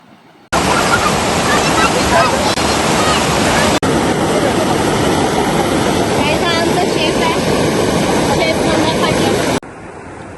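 A river beside a farmhouse rushes in a loud, steady, broadband wash that fills the whole stretch, with wind buffeting the microphone before it cuts off abruptly near the end.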